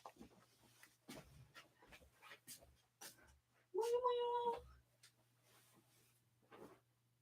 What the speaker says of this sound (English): Why don't you meow for me, Momo?